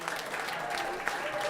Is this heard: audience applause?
yes